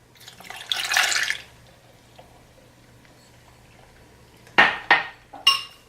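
Milk pours into a pot for green spaghetti in a short soft rushing splash, followed after a pause by a few sharp clinks of a utensil against cookware.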